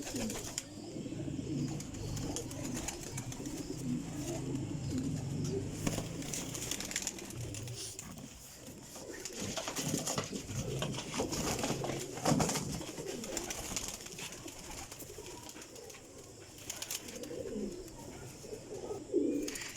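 A golden Mian Sahib pigeon and others coo continuously at close range, a dense layer of low, throaty calls with a few faint chirps and wing rustles.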